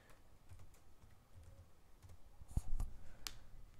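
A password is typed on a computer keyboard in quiet, close keystrokes, light irregular clicks building to a few sharper taps near the end, with no talking.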